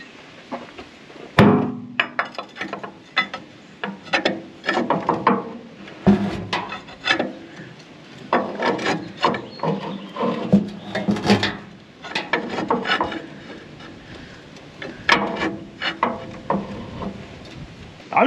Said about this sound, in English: I'm just gonna spin it over until we get a good couple revolutions.